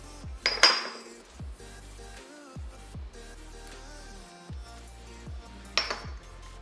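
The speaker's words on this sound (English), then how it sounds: "Kind of give that guy a stir." A spoon stirs a dry seasoning mix of onion powder, garlic powder, salt and pepper for chicken parm. Soft scraping and light clinks sound against the bowl, with two sharper knocks at the start and end.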